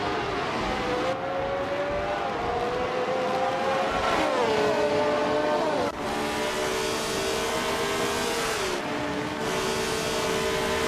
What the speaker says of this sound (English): Botfium Kaijusho is already on pole in a 1971 McLaren M19A